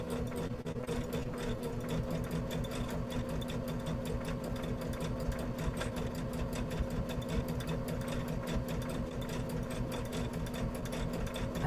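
A sewing machine stitching coiled rope runs steadily and continuously at a fast, even pace, with a constant mechanical hum and rapid stitching rattle throughout.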